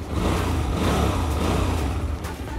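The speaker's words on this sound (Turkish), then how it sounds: "Şimdi gelelim motor sesine." A Hyosung GT250R motorcycle's 90-degree air- and oil-cooled V-twin engine revs up close and loud, a steady throaty roar that holds for a few seconds.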